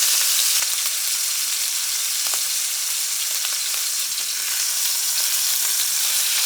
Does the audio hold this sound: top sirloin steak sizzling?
yes